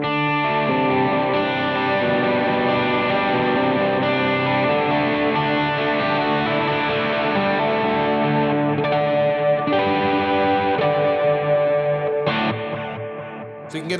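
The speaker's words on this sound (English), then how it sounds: "with it, or like with a memory man type of delay." Electric guitar played through a Memory Man type delay effect, sustained chords with echoing repeats and a slightly distorted, chorused shimmer, loud and continuous before briefly dropping near the end.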